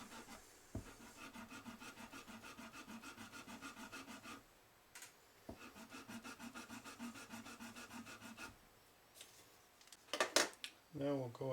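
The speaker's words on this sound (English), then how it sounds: "So I'll pull out the fret erasers." Fret erasers of 400 and 1,000 grit rubbed back and forth along the frets of a left-handed Squier Telecaster, two runs of rapid, close scrubbing strokes separated by a short pause, with some handling knocks and a brief spoken remark near the end.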